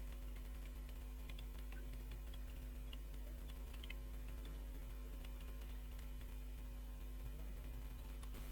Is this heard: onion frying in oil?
no